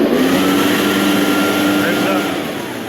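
An Echo PB580T backpack leaf blower engine with a suspect carburetor revs up and holds a loud, close two-stroke whine, easing down slightly at the end.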